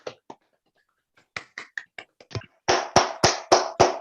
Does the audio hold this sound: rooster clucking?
no